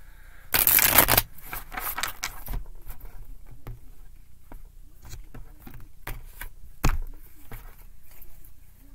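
A close, crisp riffle of shuffled tarot cards near the start, followed by quieter taps and card handling, with one more brief snap later.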